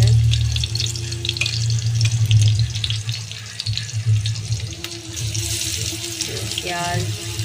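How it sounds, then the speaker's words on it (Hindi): Garlic and green chillies frying in a pan for red sauce pasta, a steady loud sizzle with a low hum, running continuously throughout with no pauses. "और इसको हल्का सा फ्राई होगा"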